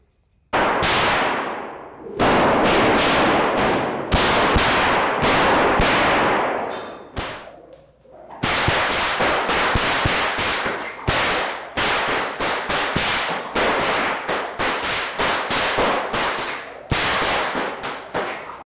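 A whip cracked in a skip over pattern of volleys and fast figure-eights, loud sharp cracks in rapid groups, a short pause, then a long run of evenly spaced snaps close by.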